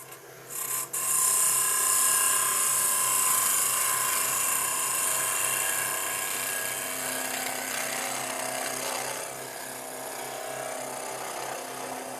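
A gouge cuts into a Brazil nut husk spinning on a wood lathe, a loud, continuous whirring scrape close up after a brief start, holding steady and easing slightly toward the end, with no talking.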